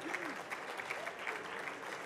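Steady applause from a crowd at an awards ceremony, continuous clapping at moderate volume throughout.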